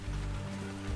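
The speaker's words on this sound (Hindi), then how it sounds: "और बारिश वापस से शुरू हो गई है" Steady rain falling in the video game ARK Survival Evolved, a dense even hiss of drops on surfaces, loud and continuous with no voices.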